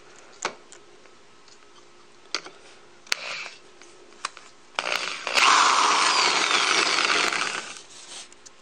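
A power drill whirs steadily for a few seconds after scattered clicks and taps, loud and close.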